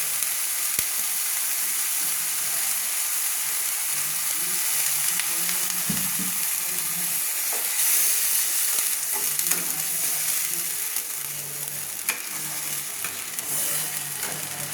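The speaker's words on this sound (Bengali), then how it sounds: "মশলাটা ফুটছে।" Bengali fish curry masala frying in oil in a pan, a continuous close sizzle and bubbling hiss with scattered scrapes and clicks of stirring throughout.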